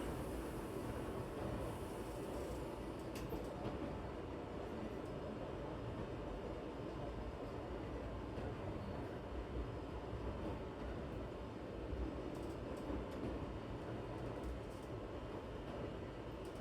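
Low, steady rumble of a Kyoto Eizan Line train running along the rails, a continuous rolling drone with faint rattles, heard from inside the carriage.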